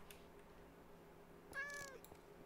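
A fat cat meows once in a video game, a short, faint mew that stands out over quiet background noise.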